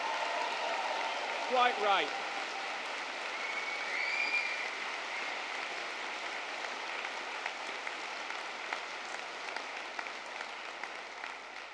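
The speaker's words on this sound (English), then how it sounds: "Those of you wearing the robes like me, cheer and shout and yell and be proud" Graduates in robes applauding and cheering at a London degree ceremony, a steady, distant-sounding hall-wide wash of clapping with a brief voice near the start.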